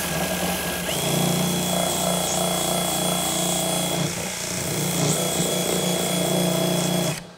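A DeWalt 20V XR cordless bandfile sands a wooden workpiece with a steady, loud abrasive whir that runs continuously for several seconds and then cuts off abruptly.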